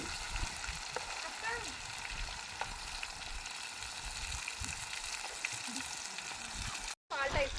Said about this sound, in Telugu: అయిపోయింది చూడండి ఫ్రెండ్స్ ఫ్రై అయింది తీసేస్తున్నాం